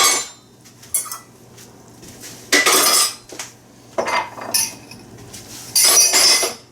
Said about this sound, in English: I'll go do the dishes while you're mixing that up